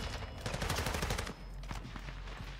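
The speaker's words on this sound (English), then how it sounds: "Oh, we're being shot at!" Rapid automatic gunfire from the Warzone 2 video game rattles in dense, loud bursts for about a second, then gives way to a few scattered single shots over a steady background.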